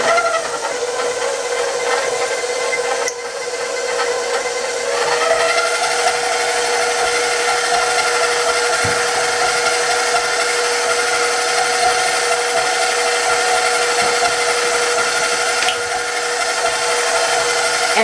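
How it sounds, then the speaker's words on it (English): An electric mixer creams butter for a praline pecan layered cake, a loud steady whirring hum that runs continuously with a brief dip and a shift in pitch partway through. "we're going to start by creaming the butter"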